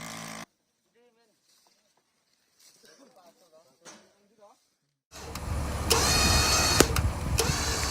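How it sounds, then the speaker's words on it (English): A self-designed logging motorbike hauling logs in rough terrain starts up after a quiet stretch with faint voices, its engine then running loud and close with a steady drone and a few sharp clicks. "This self-designed motorbike helps loggers move logs in hard-to-reach areas with ease."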